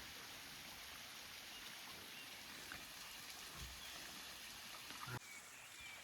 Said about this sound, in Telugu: అదిగోండి అక్కడ చిన్న వాటర్ ఫాల్ అనమాట